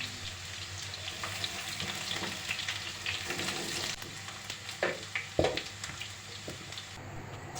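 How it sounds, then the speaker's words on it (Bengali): Boiled potatoes fry lightly in oil in a wok, a steady close sizzle with occasional stirring scrapes and clinks, no talk. "কড়াইতে পরিমাণ মতো তেল দিয়ে আলুগুলোকে হালকা ভেজে নেব।"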